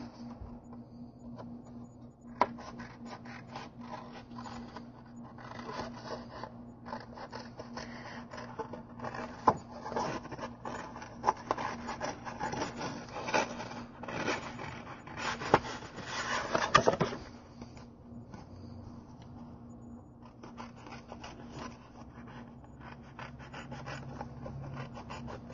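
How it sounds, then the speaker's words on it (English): Scissors cutting a paper circle for a Christmas card, a long run of soft, close snips and rustles over a low steady hum, densest in the middle, with no talking. "And then we're just going to cut out the circle."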